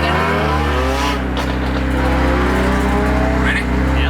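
Insanely modified Mitsubishi Evo race car accelerating, a loud close engine drone with strong low harmonics rising slightly in pitch, heard from inside the car, with people talking over it.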